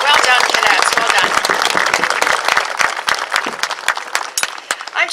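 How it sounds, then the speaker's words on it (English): Applause for air cadets at a squadron's opening ceremony in Bradford, Ontario, with dense clapping from the audience that thins toward the end into scattered individual claps. "I think we owe them a little round of applause."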